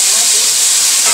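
Tomatoes hit hot oil with a loud, dense, continuous sizzle, heard up close for about a second.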